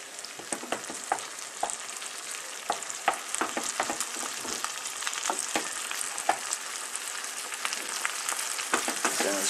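Tomatoes sizzle and crackle steadily in a hot pan, with scraping and clacking from stirring throughout, close up and fairly loud.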